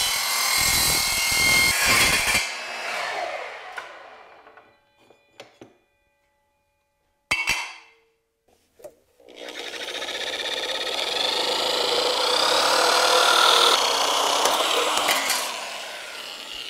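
A miter saw used for steel spins up and cuts metal in loud bursts, with a short cut at the start, a quiet pause, then a longer sustained grinding cut to the end.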